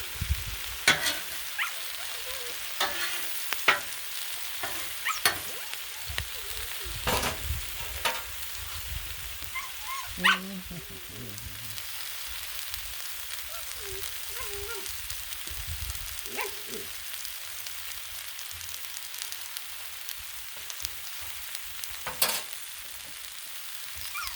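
Mushrooms and collard greens fry in butter on a Blackstone griddle, a steady close sizzle with scraping stir clatters and sharp spatula taps scattered throughout, no voices.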